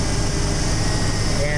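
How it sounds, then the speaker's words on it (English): A Jeep XJ with the 4.0 six-cylinder engine idles steadily after a low idle adjustment, a constant close-up mechanical hum with no change in speed. "it's idling pretty good right now."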